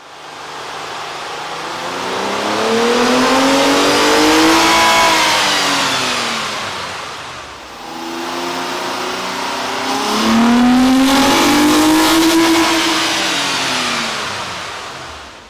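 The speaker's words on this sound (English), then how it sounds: "we ran the vehicle on the dyno to test the sound comparison versus the stock intake" A Nissan Maxima 3.5L engine with an aftermarket air intake revs up and settles twice in long sweeping pulls on a dyno, loud and close with a throaty intake roar, no talking.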